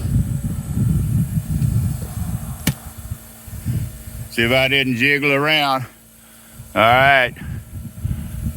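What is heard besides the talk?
air compressor running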